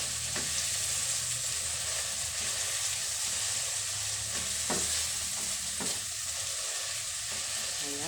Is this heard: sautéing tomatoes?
yes